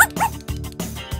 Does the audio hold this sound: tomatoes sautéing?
no